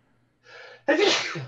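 A single sharp sneeze, preceded by a short breathy intake, close and loud.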